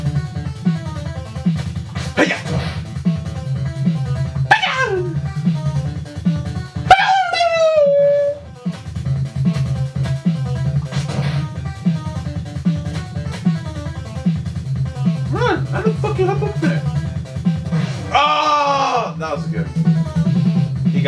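Chiptune dog barks and yelps from the NES game Ninja Gaiden sound several times over a continuous buzzing 8-bit music loop, and one sharp yelp stands out mid-stretch.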